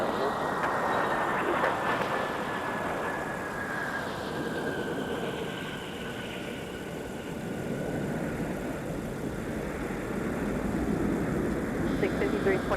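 A Delta Boeing 717 airliner at MSP airport in winter gives a steady, fairly loud jet engine roar with a whining tone that slowly shifts pitch, continuous throughout without talk.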